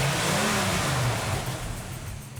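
A 1969 Pontiac Firebird engine revs loud and close, a steady low rumble rising and falling in pitch through the whole stretch, with no voices over it.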